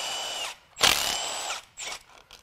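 Timing cassette bolts on a BMW N20 engine being removed with a power tool, giving two loud high-pitched whirring bursts separated by short pauses, close up in a quiet workshop.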